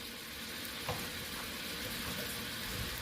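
A whole egg sizzles in a hot breakfast pan, a steady broadband crackle of frying with a faint tap partway through and no voices.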